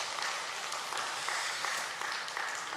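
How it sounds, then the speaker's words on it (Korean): A church congregation claps together in dense, steady applause during a special early-morning prayer service at Yeosu Gwanglim Church, a continuous moderately loud patter with no voices over it. "우리 하나님께 영광의 박수 올려드리겠습니다"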